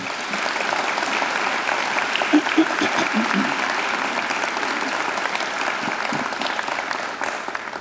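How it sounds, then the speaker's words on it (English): Steady, sustained applause from a large crowd at a graduation ceremony, dense clapping continuing evenly throughout without a break. "I think they deserve a great round of applause too."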